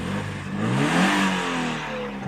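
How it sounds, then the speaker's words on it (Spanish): Toyota GT86 engine revving through its twin exhaust outlets, a steady mid-pitched rev that swells and falls back over a couple of seconds, close and loud with no talking. "la doble salida de escape, que suena muy bien"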